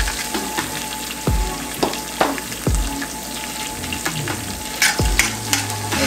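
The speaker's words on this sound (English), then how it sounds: "And then kind of mix that around." Chopped vegetables with black pepper sizzle in a hot pan while a utensil stirs them, steady frying hiss broken by several low scraping knocks against the pan.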